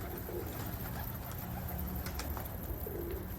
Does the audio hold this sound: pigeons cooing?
yes